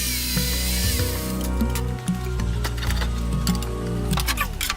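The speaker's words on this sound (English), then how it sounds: "I cut dados on the top and bottom of the inside of each of these pieces." Power tool whining steadily while cutting dados into small wood pieces for a box, a close, loud continuous motor tone with shifting pitch and brief dips.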